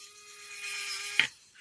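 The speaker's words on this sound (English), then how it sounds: "So let's just drill a couple of things. I've got a little bit of perspex here." A cordless mini drill bores through a small piece of perspex, a brief grinding burst near the end that follows a steady faint high motor whine, heard close up with no talking.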